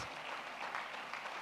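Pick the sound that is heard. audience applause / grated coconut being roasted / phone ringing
audience applause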